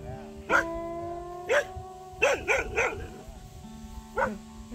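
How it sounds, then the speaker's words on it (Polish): A dog barks in a rural morning setting where horses are nearby: single sharp barks, then a quick run of three, then one more after a pause, fairly close with faint background noise. "Nasza Afri robi trochę hałasu"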